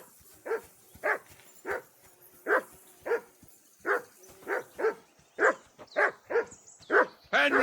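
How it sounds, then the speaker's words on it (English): Dog barking in Kingdom Come: Deliverance II, a steady run of about thirteen sharp barks in regular rhythm, growing louder and more agitated toward the end, close and clear with no talking. "Henry, call that dog to heel."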